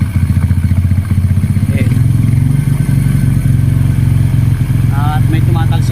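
A Honda RS 125 two-stroke motorcycle engine runs close and loud with a steady pulsing drone after an oil pump cleaning, while someone speaks briefly over it.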